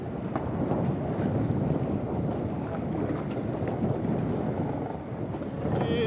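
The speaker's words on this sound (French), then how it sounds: "Il y a du vent en fait" Strong wind at the beach at Cap d'Agde during a French 12'6 stand-up paddleboard championship buffets the microphone in a continuous low rumble, with the wash of sea and surf underneath.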